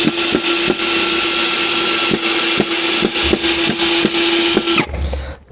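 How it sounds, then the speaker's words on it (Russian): A powerful cordless drill whirs loudly and steadily at close range while driving self-tapping screws into a board, with rhythmic ticking pulses through the run before it stops abruptly near the end. "я вынужден закрутить сюда 2 самореза"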